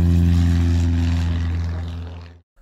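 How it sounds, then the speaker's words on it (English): A propeller airplane takes off a short distance away, with a loud, steady engine drone and a deep low hum that hold for over two seconds and then cut off abruptly. "This plane taking off from a short distance."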